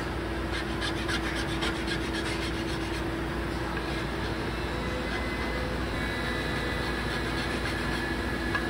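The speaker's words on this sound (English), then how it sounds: "filing up the grain against the grain, which isn't ideal, but it'll be okay." Steady, continuous rasping of a file working against the grain of a wooden flintlock rifle stock, close and unbroken, with a constant background hum and no voices.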